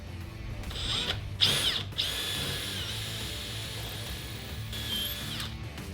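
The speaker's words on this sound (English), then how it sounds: "So we're gonna pre-drill this." A power drill pre-drills a hole into the 12-inch outermost wooden support of a DIY collapsible camping table, whining steadily and loudly with short bursts of higher-pitched bite as the bit cuts into the wood.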